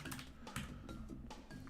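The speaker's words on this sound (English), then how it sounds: "I start typing." Computer keyboard typing during a live session configuring a GUI, a steady run of close, quiet key clicks with short bursts and pauses, no voices.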